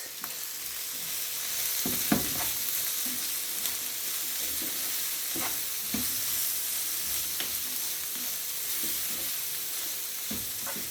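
Steady sizzling of bitter gourd and onion frying in a pan, with repeated scraping clicks of a spoon stirring through it at close range.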